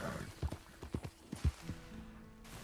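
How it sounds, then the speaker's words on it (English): Hooves of a Missouri Fox Trotter horse clip-clop on a trail in a steady rhythm of about two heavy, close thuds per second, then the steps fade into quieter rustling. "The horse did some weird maneuvering, so I'm going to slow down and check this out."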